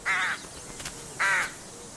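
A rook caws twice, loud and close, each a harsh, rasping call about a quarter second long, separated by a brief pause with faint background noise.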